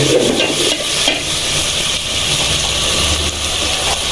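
Garlic paste and ginger paste are stirred in a frying pan for chicken biryani, giving a steady close scraping and sizzling hiss that runs continuously with no talking.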